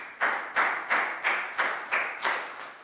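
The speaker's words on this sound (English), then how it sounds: "Big round of applause for Lakgao." Children in a primary classroom clap together in a steady unison rhythm, eight sharp, evenly spaced claps, close and clear with no talking.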